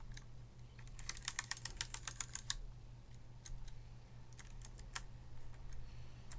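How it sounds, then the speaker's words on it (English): Mechanical keyboard keys pressed at random by a child, a quick burst of sharp clacks followed by scattered single taps, close and clear over a faint low hum, with no talk. "my daughter is already pressing random keys to help daddy out there"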